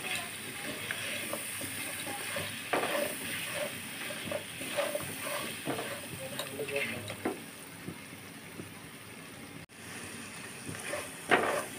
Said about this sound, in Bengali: দিয়ে আমি সুন্দর করে মিশিয়ে একটু সময় নিয়ে ভেজে নেব